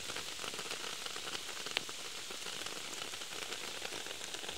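Rain falls steadily in a forest where cattle graze, a soft, continuous patter with no voices heard.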